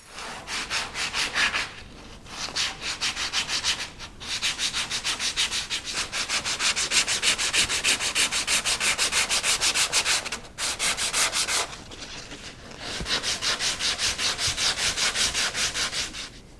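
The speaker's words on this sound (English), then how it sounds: "I'm going to try and sand it as close to this as I can with the drum sander" A drum sander works a wooden sculpture base, producing close, loud rasping friction in long steady passes broken by a few brief pauses; no one speaks.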